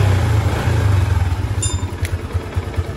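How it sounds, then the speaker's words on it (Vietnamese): A rebuilt Yamaha Exciter 150 motorcycle engine idles close by with a steady low, lumpy putter and light mechanical clatter, a couple of brief higher ticks partway through. "giờ nổ máy thử và chạy thử thôi. Bấm một cái là nổ thôi này."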